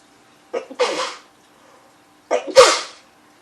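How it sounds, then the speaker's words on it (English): Two sneezes about two seconds apart, each with a short sharp intake of breath before the burst, close and fairly loud. "I'm going to sneeze"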